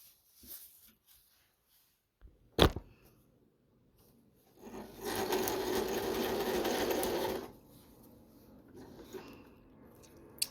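A domestic sewing machine stitching a zip onto a fabric pouch runs in one steady, close whirring burst of about three seconds, preceded by a sharp click and soft handling of fabric, with no talk.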